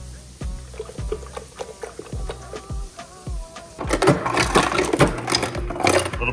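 Almond milk pours into a blender for a chocolate peanut butter whey protein shake, a sloshing liquid rush that swells and fills in over the last couple of seconds after a few earlier clicks and taps.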